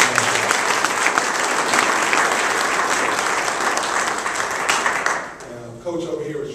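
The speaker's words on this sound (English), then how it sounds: "Let's give a round of applause for the United Football League." Loud, sustained applause from an audience at a United Football League press conference in Sacramento, dense clapping filling the room before tapering off near the end.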